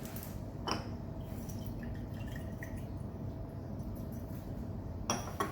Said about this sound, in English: Now we are going to transfer this amount to the inside of the conical flask